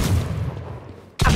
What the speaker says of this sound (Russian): Обожаю звуки стрельбы!